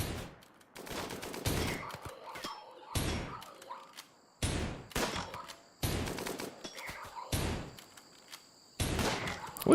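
A lever-action gun in modded Rimworld fires quickly in repeated sharp bursts, seven or eight loud cracks spaced roughly a second apart, each trailing into a brief mechanical clatter, with no talk.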